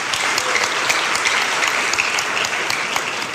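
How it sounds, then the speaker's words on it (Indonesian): A crowd at a Christian sermon claps together in loud, sustained applause, a dense, even patter throughout with no speech over it. "Tepuk tangan."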